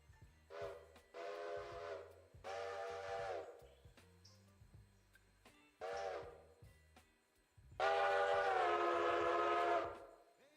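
Locomotive whistle in the Railroader train game, four loud sustained blasts with gaps between, the last one longest, over a low rhythmic rumble of the engine.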